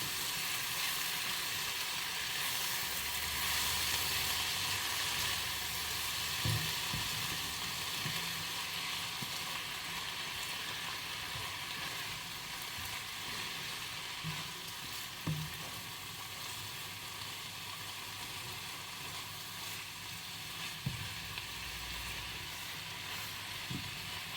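Potato and spinach cooking in a covered pan give a steady, low sizzle and frying hiss that runs throughout, with occasional soft knocks and clinks of utensils and no talking.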